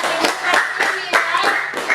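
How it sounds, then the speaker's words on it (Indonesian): Classroom clapping for a student during an Islamic religious education lesson, a few short bursts of hand claps in a loose rhythm, near and clear, with a teacher's voice mixed in. "Tepuk tangan untuk Naya-Naya"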